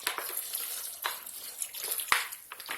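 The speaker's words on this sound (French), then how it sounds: "moi je rajoute un petit peu de vinaigre comme ça dedans" Vinegar pours into a salad spinner full of water and chestnuts, a soft, close trickle and splash with a few brief louder drops.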